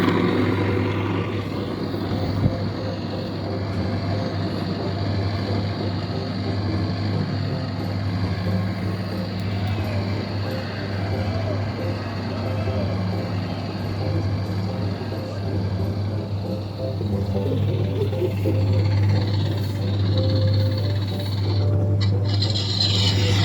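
The motor of a red ride-on tractor drones steadily and fairly loudly with a low, continuous hum and a slight rise near the end.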